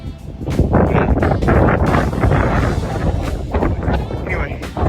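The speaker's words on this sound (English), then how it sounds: "just look how strong the wind is" Strong desert wind at an off-grid homestead pummels the microphone in heavy, irregular gusts, a loud buffeting roar that surges and eases throughout, with a voice faintly mixed in.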